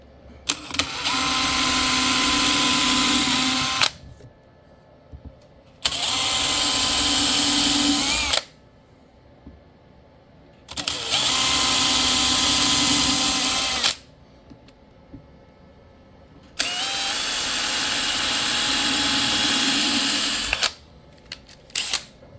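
Power drill driving screws into a Nagy 10-inch adapter ring for a 1998-onward Harley, four long whirring bursts of a few seconds each separated by short pauses, close and loud.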